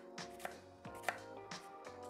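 Knife chopping an onion finely, sideways cuts giving a few soft, close taps on a board at an uneven pace, quiet and without talking.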